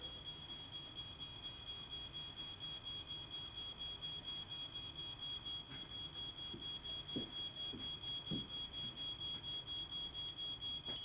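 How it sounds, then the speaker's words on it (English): A residential smoke alarm on the second floor of a burning house sounds a continuous, pulsing electronic tone with a rapid regular rhythm, steady at moderate loudness, and a few faint knocks underneath. "The smoke alarm on the 2nd floor now activates."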